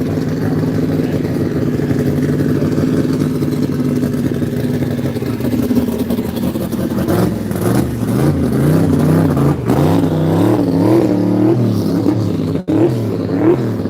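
A GT500 muscle car on a full-speed run at the Texas Mile: a loud, steady engine drone climbs into rising, revving pitch as the car accelerates hard.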